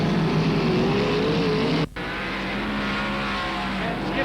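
Sprint cars race on a dirt track at Parramatta City Raceway during the 1990 Sprintcar Gold Cup, sounding as a loud sustained engine roar with shifting tones and a brief dropout midway, heard through an old broadcast feed.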